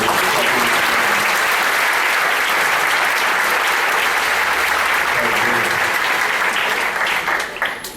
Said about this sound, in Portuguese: Eu queria que você aplaudisse o Senhor.